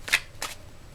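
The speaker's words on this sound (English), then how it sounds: "do a good shuffle." A tarot deck is shuffled by hand in two quick, soft riffling bursts, close and fairly faint, with no voices.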